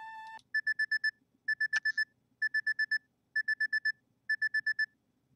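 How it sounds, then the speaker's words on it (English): Alarm clock going off in the video game PacaPlus, bright electronic beeps in five quick bursts of four or five, clean and evenly spaced, with no talk over them. "Why is my alarm going off?"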